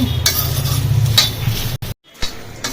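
Puffed rice being stirred in a pan over a low flame, a close, steady dry scraping and rustling with light clinks from the utensil, broken by a brief gap near the end, with no voices.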